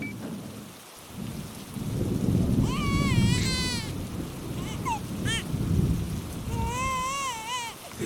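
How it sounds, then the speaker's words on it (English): Steady rain falling with rolling rumbles of thunder, used as an audiobook sound effect, a continuous loud downpour with soft swells; a voice speaks over parts of it, with bright whistling or sung tones drifting above the storm. "It's okay, little one. It's just the rain."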